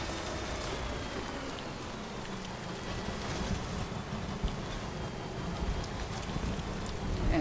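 Rain in the Death Stranding game falling steadily in a dense, hissing wash of droplets, fairly quiet and continuous throughout with no speech.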